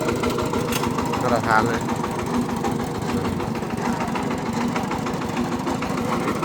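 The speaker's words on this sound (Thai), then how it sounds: "พัดลมมันได้เสียงโอเคแล้วนี่" Car engine idling with its cooling fan running, a steady low rumble and whir that fills the whole stretch, with people talking over it.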